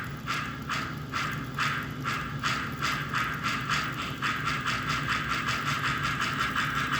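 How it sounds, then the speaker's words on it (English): American Flyer toy steam locomotive with an enlarged smokestack chuffing steadily, a rapid, even run of soft puffs over a continuous mechanical hum, close and moderately loud. "puff chuff sound and a healthy puff of smoke"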